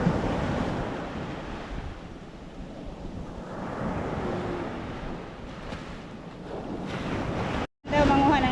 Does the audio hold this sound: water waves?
yes